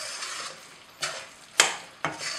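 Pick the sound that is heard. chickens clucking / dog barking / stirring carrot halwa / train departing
stirring carrot halwa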